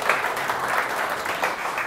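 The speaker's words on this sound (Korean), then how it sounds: "여러분들 박수 좀 보내주시기 바라겠습니다." An audience at a violin concert applauds, a dense, steady patter of many hands clapping at moderate volume for a couple of seconds.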